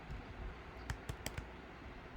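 Keys clack on a computer keyboard as Android code is written, a quiet run of a few sharp taps clustered together, close and isolated with no talking.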